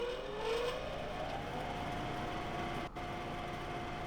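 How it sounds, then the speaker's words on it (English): Grain elevator blowers in Farming Simulator 2013 give a steady, droning machine whir with a faint rising tone. It holds at a constant level and drops out briefly near the end. "It makes the sound indicate the blowers or the grain elevators are working"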